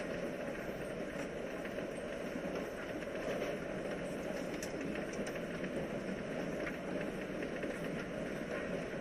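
A train rolls along in the video game Life is Strange: Before the Storm, giving a faint, steady rumble of carriage and track noise that holds evenly throughout with no speech.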